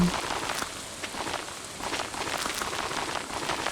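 Steady rain from the video game Stardew Valley patters without a break, a dense even hiss of drops with no talking.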